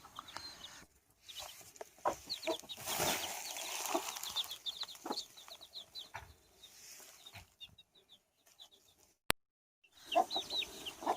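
An aseel hen clucks repeatedly in a coop with chicks and eggs nearby, soft, close and irregular chirpy clucks spread across the span, with rustling and a brief sharp click near the end.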